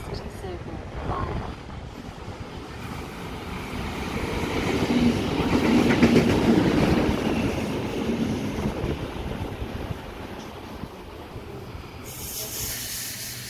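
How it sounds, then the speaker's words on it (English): A train rumbles steadily closer to a platform at Glenfield station, the low roar swelling to a peak midway and then easing, with wind buffeting the microphone throughout. "my train is now approaching"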